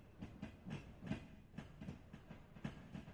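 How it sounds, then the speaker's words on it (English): Rhythmic clickety-clack of train wheels passing over rail joints in a train simulator game, evenly spaced soft clicks repeating steadily with a low rumbling engine underneath. "Clicking on the tracks and the sound of the engines"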